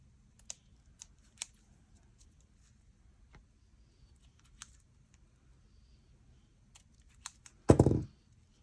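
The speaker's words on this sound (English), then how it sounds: "You can always trim off any" Scissors make a few light, sharp snips while trimming flyaway strands on a handmade Christmas craft, spaced out and fairly close, ending in a louder brief rustling burst.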